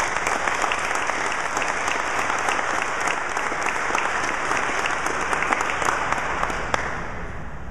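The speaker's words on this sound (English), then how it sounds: "if we could just have a round of applause for the players, coaches, and staff" Sustained applause from a large audience for a sports team's players, coaches and staff, steady and dense clapping throughout with no break.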